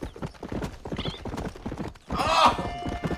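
A horse in the western video game Red Dead Redemption clops along with a steady run of hoofbeats, then lets out a loud, close whinny.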